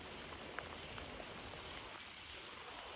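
Steady rain falls with a constant hiss, and scattered drops patter on a surface.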